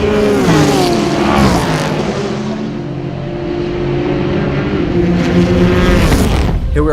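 Ford GT race car at Le Mans, a loud continuous engine drone with steady harmonic tones that dip slightly mid-run and climb again near the end, heard from on board with no talking.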